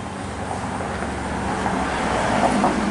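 Road traffic passing behind a front yard with a cherry red door in a residential neighborhood, a steady, loud broadband roar of cars that swells slightly toward the end, with no talking over it.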